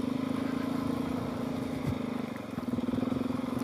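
A DRZ400S motorcycle, just repaired, riding in first gear on a dirt route, a steady mid-pitched engine drone with a faint throttle change partway through, heard from the rider's seat with no talking.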